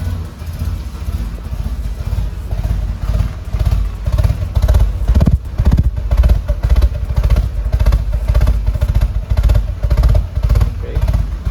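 Exhaust of a 2010 Chevy Monza 1.6 with a fault and a diagnosed MAP sensor problem, running steadily up close: a loud low rumble with an uneven, pulsing rhythm and occasional heavier thumps throughout.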